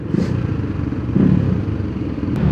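A BMW G 310 GS motorcycle with an aftermarket Accra exhaust rumbles loud and close with a deep, throbbing exhaust note, pulsing steadily as it cruises along.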